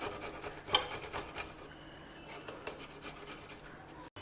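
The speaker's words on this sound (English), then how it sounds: "Now take a small piece of ginger, peel it, and we'll grate that too." Peeled fresh ginger rubbed over a small kitchen grater gives a soft, steady rasping scrape. The strokes are faint and close, with no talk.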